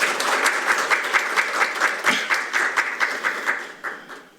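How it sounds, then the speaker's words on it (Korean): A small audience at a panel discussion on broadcasting gives fairly close, rhythmic applause to welcome a speaker, with individual claps audible in a steady pulse that fades near the end. "박수로 맞아주십시오."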